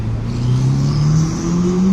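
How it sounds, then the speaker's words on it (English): Up close, a car engine hums steadily and rises gradually in pitch as it revs and moves past, loud and alone with no talking. "Nice car."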